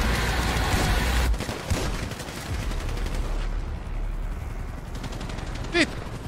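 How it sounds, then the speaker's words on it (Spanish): Bursts of rapid gunfire in a video game shootout during a police escape crackle and rattle continuously, loud and close, with a few sharper shots standing out near the end. "Tiros, tiros, tiros."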